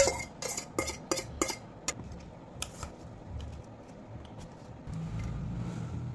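Food being mixed by hand in a dish with kasundi mustard sauce and chili paste, giving a run of sharp clinks and scrapes against the dish early on, then softer squelchy mixing and a low steady background hum.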